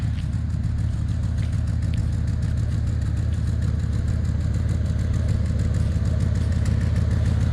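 A parked truck's engine runs steadily at idle, a loud, continuous low rumble with an even throb that holds from start to finish, nearby and alone without any talk.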